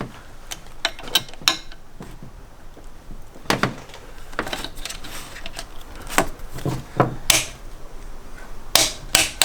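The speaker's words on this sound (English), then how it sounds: "I'm going to use this crow's foot spanner on this torque wrench with it at 90 degrees" A torque wrench fitted with a crow's foot spanner tightens a high-pressure fuel line on a 2013 Porsche Cayenne 3.0 TDI engine, producing scattered sharp metallic clicks and ratcheting ticks at close range, irregular and without talk.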